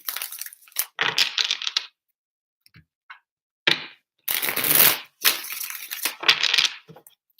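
Tarot cards are shuffled by hand in several separate bursts of crisp riffling and clacking, close and loud, with short silent pauses between each shuffle.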